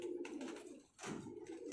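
Pigeons coo softly and low in the background, a continuous murmuring coo broken by a short pause.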